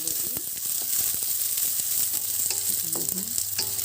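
Onion, ginger and garlic sizzle steadily in hot oil in a pan while being stirred, with scraping and clinking of the spatula standing out around the midpoint and near the end, close and moderately loud.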